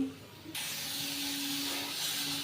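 Chopped tomatoes hit a hot pan of oil and Kashmiri chilli powder for frying, setting off a sudden hiss that stays steady and fairly quiet over a faint background hum.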